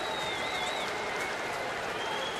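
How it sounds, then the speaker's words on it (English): Faint, distant smattering of applause from Cardinal fans in a baseball stadium during a St. Louis at Houston game, a soft continuous wash of crowd noise under steady ambience with a faint whistle-like tone. "you can hear a little smattering of applause now as the Cardinal fans in attendance see that final going up"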